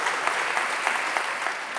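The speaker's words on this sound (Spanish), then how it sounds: "Un aplauso para el señor Higuera," Brief applause from an audience at a medical congress on osteoarthritis, a dense, even clatter of hands that runs steadily through the short moment.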